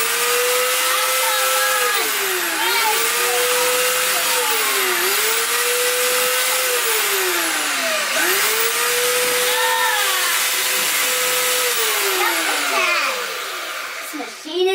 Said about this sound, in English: See if I can make a hole in this. If this machine can make a hole in here.